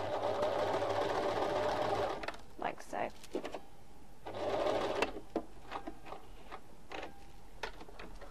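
Sewing machine stitching a fabric heart, with two bursts of fast, steady whirring, the first about two seconds and the second shorter, separated by clicks and handling sounds; a person speaks briefly.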